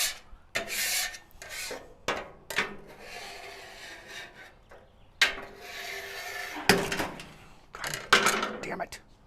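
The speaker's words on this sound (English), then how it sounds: "we're going to start by scraping, just getting surface material moved to the end" A metal scraper rasps across a griddle, pushing leftover food and surface residue to the end in a series of short, irregular scraping strokes, close and moderately loud, with a voice talking intermittently.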